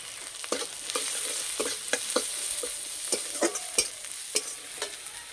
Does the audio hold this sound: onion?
yes